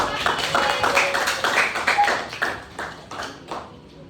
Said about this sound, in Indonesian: Oke, boleh tepuk tangan dulu.